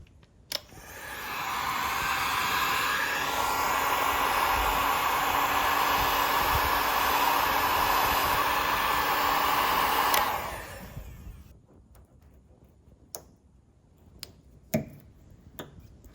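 A heat gun warms adhesive on a truck door during wrap preparation, a steady blowing whoosh lasting about nine seconds before cutting off, followed by quiet with a few faint clicks and taps.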